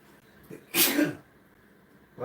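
A single sharp sneeze bursts out close to the microphone in a quiet indoor room, followed a moment later by the start of a voice.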